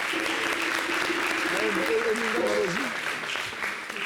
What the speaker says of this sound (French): On applaudit tous les gagnants.